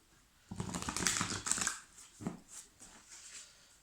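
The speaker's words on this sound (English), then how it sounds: "let's give them one more shuffle." Quick riffling and soft slapping of tarot cards being shuffled close by, a dense burst followed by a few lighter taps.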